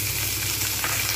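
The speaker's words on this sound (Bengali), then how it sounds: "আলুগুলো খুব সুন্দরভাবে ভেজে নেবো।" Potatoes frying in a pan with browned onions, a loud, dense, continuous sizzle heard up close throughout with no talk.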